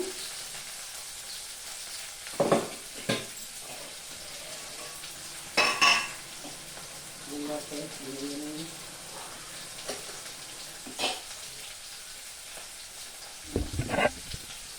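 Tomato pieces, green chillies and curry leaves fry quietly in a pan for a drumstick and spinach curry. A soft sizzle runs under occasional sharp clinks of a stirring spoon, and a voice is faintly heard.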